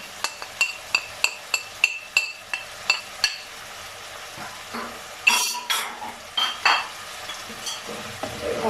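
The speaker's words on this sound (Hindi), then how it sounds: "और तकरीबन 2 मिनट के लिए ऐसे मसालों के साथ भून लेंगे" Mutton korma frying with dry spices (salt, chilli, turmeric, cinnamon, black cardamom) in a pot, with a run of sharp, regular spoon clinks against the metal followed by scraping stirs and soft sizzling, close and fairly loud.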